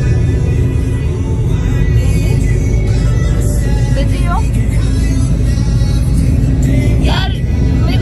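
Steady, loud car road noise from inside a vehicle on a road trip, with a constant engine and tyre rumble throughout and no clear changes in pace.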